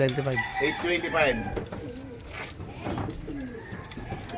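Soft, low cooing repeats through the clip as a training pigeon arrives, amid a busy outdoor background in Tiaong, Quezon, Philippines, with voices faintly present underneath.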